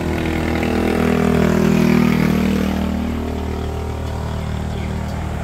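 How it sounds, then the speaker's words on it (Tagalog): A motorcycle engine runs with a steady, loud, droning hum on a group ride in Borawan, Quezon, swelling slightly and then holding even throughout. "Yung motor namin."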